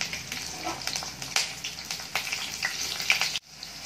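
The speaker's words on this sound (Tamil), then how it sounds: "இப்போ பச்சை மிளகாய் நல்லா வதங்கிடுச்சு." Green chilies sautéing in oil with fennel and cinnamon, crackling, uneven sizzle with sharp spattering pops, close and moderately loud, cutting off abruptly near the end.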